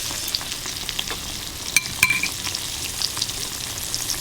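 Steady crackling sizzle of green tomatoes, zucchini and yellow squash frying in hot oil, with a few sharper pops and a brief clink partway through; no one speaks.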